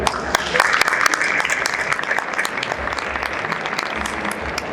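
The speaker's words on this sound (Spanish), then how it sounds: "Un fuerte aplauso, por favor." Audience applause after a panel on small businesses and data protection rules, a loud, even round of clapping with sharp individual claps standing out throughout.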